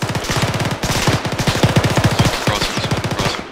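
Sustained automatic gunfire in ArmA 3 military combat, rapid bursts of shots rattling continuously and loudly with short gaps between strings, no voices over it.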